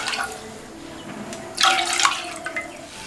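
Water pouring into a heavy-bottomed pot on a stove, a splashing stream with a louder gush midway followed by a few trailing splashes, alone and close.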